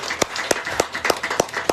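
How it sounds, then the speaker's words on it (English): A small gathering at a Hindu temple gives a sparse, rhythmic round of applause, with a few distinct claps spaced evenly over a couple of seconds. "Give them a round of applause, everyone."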